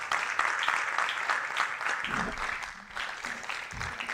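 Audience at an MOU signing ceremony clapping steadily as a woman returns to her seat, a continuous moderate patter of many hands with some murmuring beneath it.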